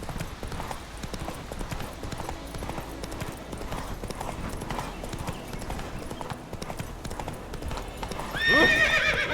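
Roach, a horse in The Witcher 3 video game, gallops with steady, close clip-clop hoofbeats throughout, ending in a loud whinny near the close.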